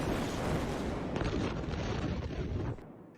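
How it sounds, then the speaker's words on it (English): Massive Beirut port explosion in Lebanon, a heavy, sustained roaring rumble that fills the sound for nearly three seconds before fading off, with no talk over it. "2 enormous explosions shook Beirut, Lebanon today."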